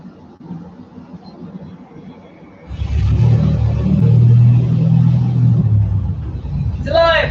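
A supercharged 3800 engine on a test stand cranks and fires, then settles into a loud, steady rumbling run with the revs rising slightly; a voice speaks briefly at the end.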